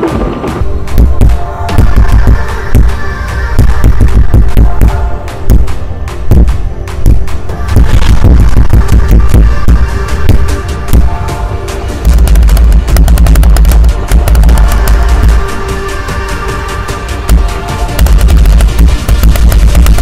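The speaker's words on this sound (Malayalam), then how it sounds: "ഈ ഒരു ഗണ്ണ് വെച്ചിട്ട് ഷൂട്ട് ചെയ്തിട്ട് വെടി കൊണ്ടുള്ള എക്സ്പീരിയൻസ് എന്താണെന്ന് പറയാനായിട്ട് പ്രവീൺ മച്ചാൻ വന്ന" A homemade Orbeez gun fires in rapid, loud bursts of sharp cracks and clatter as glasses are shot and shattered, the dense impacts continuing almost without pause.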